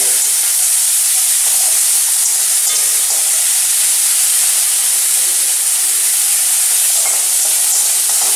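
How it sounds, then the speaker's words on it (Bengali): Garlic, ginger and chili paste masala fries hard in a pan while being stirred, giving a loud, dense, continuous hiss with no talking. "খুব ভালোভাবে আমি এবার মশলাটা কষে নেব।"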